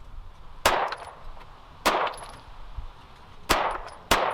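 An S&W M&P 2.0 Compact 9mm pistol firing 124 grain HST rounds at an outdoor range: four sharp, loud single shots at uneven intervals, each with a short ringing decay and faint metallic clinks between.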